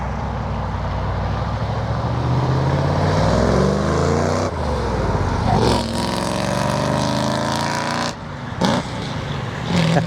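A 1963 Ford Galaxie 500 with a mechanical clutch roars past, its engine note swelling and shifting pitch as it goes by, loud and close, then easing before a brief dip near the end.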